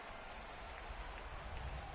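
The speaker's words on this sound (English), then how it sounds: "It's raining cats and dogs out there." Steady rain pours down on a ballpark in a PS4 baseball video game, a dense continuous hiss with low rumble underneath, loud and even throughout with no talk.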